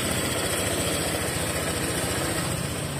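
A Honda Vario motorcycle with a newly fitted ECU runs at a steady idle close by, its even low engine chug and rattle continuing unbroken with no talking.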